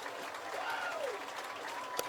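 Crowd noise at a high school football game in Iowa, North Scott against Muscatine, as the kickoff team pumps up the stands: a steady, distant roar of cheering and clapping, with faint whistle-like tones and a sharp clap near the end.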